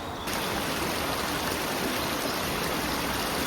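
Constant rushing of Devil's Water, a river in northern England, flowing close by and steady, with no voices or other sounds.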